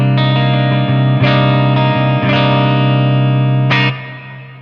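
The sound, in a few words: Kiesel electric guitar clean tone, fifth pickup position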